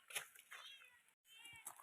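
A cat meows twice, close and fairly quiet, with a short pause between the two cries.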